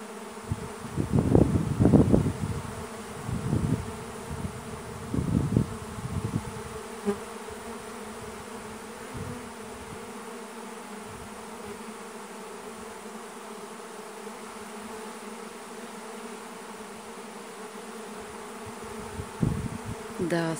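A second honeybee swarm leaving its hive, bees also landing on a cap and a phone; dense insect buzzing swells loudly in the first seven seconds, then settles into a steadier, quieter hum, with a brief rise near the end.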